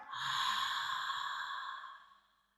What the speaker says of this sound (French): c'est vraiment une respiration sonore ici qui va entraîner vraiment un peu de chaleur dans notre corps